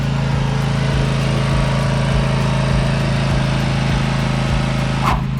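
A vehicle engine runs steadily while spraying a food plot field, giving a constant loud drone with a faint rhythmic low thumping throughout and no voices.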